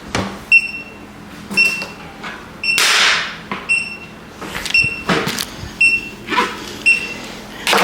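Loose part on a treadmill being tightened, heard as a series of short, sharp metallic clicks and knocks at irregular intervals with brief bursts of rattling, close and fairly loud, with no talking.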